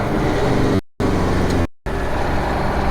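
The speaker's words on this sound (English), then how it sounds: "The Jakes are so quiet in this." Kenworth cabover truck after sitting 27 years, heard from inside the cab with a steady loud diesel drone, a low rumble of engine braking, and two brief breaks in the sound.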